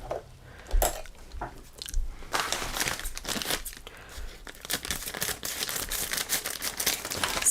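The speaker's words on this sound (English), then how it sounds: "It is bubble wrap." Bubble wrap packaging handled and crumpled close up, a continuous stretch of crinkling and rustling with sharp crackles and no talking.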